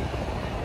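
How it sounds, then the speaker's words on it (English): A Toronto subway train riding in chilly fall weather, giving a steady, loud rumbling roar of wheels and car noise throughout a brief moment. "So let's hop on the subway."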